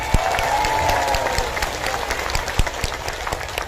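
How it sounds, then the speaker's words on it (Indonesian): Steady applause from a large crowd at an Islamic religious gathering, sustained throughout with occasional louder individual claps standing out. "tepuk tangan untuk NU Taiwan"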